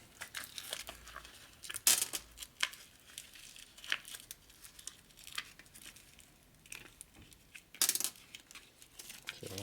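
Tape is peeled and crumpled off metal washers from a 1992 Harley-Davidson Evo engine rebuild, giving close crinkling and tearing bursts with short pauses between them, the sharpest rips near the start and end.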